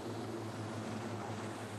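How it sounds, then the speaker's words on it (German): Sea King military helicopter on a medevac flight from a naval tender, heard as a steady, droning rotor and engine hum with a low throb, continuous and fairly distant, with no voices. "Ein Sea King-Hubschrauber wird dafür vom Tender Main abgerufen."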